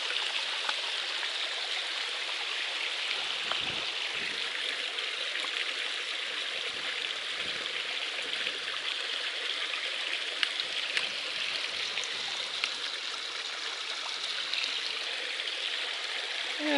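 A stream of brown tannin water on the Appalachian Trail in Vermont runs in a steady, close, continuous rush and babble, with no voices.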